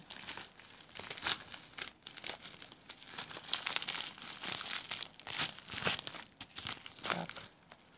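AliExpress parcel packaging being cut open and unwrapped by hand: close, continuous plastic crinkling and rustling in uneven bursts with occasional tearing, moderately quiet, without speech.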